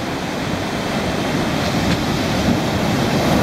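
Ocean waves at Boca Catalina Beach in Aruba crash over rocks in a constant loud roar of surf, with broadband wash and wind buffeting the microphone, no voices heard.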